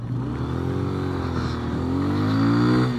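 A Honda Grom motorcycle engine buzzes close up while riding, its pitch sliding down and then climbing through a downshift before it revs up again, loud and steady.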